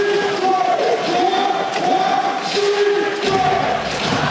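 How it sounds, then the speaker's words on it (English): A basketball crowd at Heping Gymnasium during a playoff game between the Taoyuan Taiwan Beer Leopards and New Taipei Kings roars loudly and continuously, with sustained shouting and a few sharp thumps rising from the arena. "Crowd is loud here at Heping Gymnasium."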